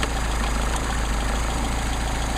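A Mercedes 190SL engine idling on Solex carburetors at operating temperature, a steady, even rumble with a constant high whine, close and continuous with no talk.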